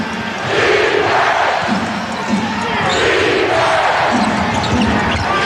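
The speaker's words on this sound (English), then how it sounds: "And the crowd comes alive" A basketball arena crowd roars and cheers loudly during a 2000 playoff game between the Lakers and Kings, a sustained wash of voices that swells and holds for several seconds with bouncing and court noise mixed in.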